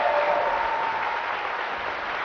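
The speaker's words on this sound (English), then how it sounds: "Audience, you can applaud now if you'd like." Audience applause after an Ohio gubernatorial debate, a continuous even patter of many hands clapping, moderately loud and slightly distant.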